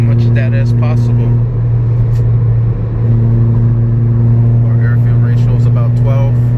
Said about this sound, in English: Give it some wide open throttle pulls. 6 gear.